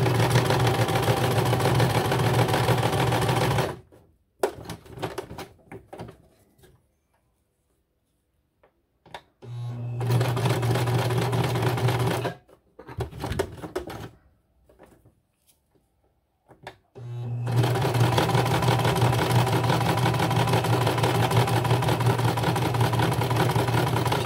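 A sewing machine running a short zigzag stitch around the edge of a handmade snow globe Christmas ornament, steady mechanical whirring in three runs broken by quiet pauses, the last run carrying on to the end.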